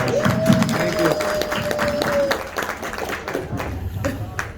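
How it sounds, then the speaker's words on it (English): A round of applause for the chef at a chamber of commerce luncheon: scattered, moderately loud clapping from a room of diners, with murmured talk and a sustained tone running underneath before it thins out. "I'd like to give a round of applause, though, for Chef Anthony Michael Moore."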